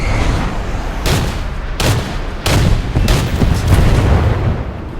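Aircraft guns firing in War Thunder, heard as short heavy bursts of rapid fire, about four loud volleys spaced roughly a second apart over a constant droning engine rumble.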